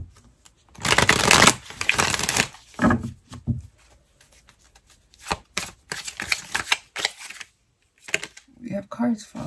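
Tarot cards being shuffled, with bursts of riffling and flicking and a few cards dropping, close and fairly loud, separated by short pauses with soft noises.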